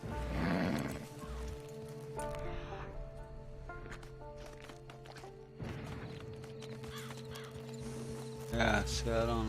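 In the Red Dead Redemption 2 video game, a horse's hooves clop under a game soundtrack and ambient noise, with whinnies near the start and end, all fairly faint.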